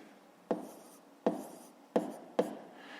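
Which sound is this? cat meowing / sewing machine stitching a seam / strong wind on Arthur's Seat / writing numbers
writing numbers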